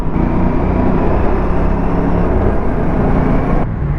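Aprilia RS457 motorcycle on a group ride, a loud continuous engine drone mixed with wind rush, steady and close before cutting off abruptly near the end.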